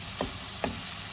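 Mangsher Ghugni sizzles steadily in a frying pan as it is stirred, with two brief scraping strokes of the spoon cutting through the constant hiss.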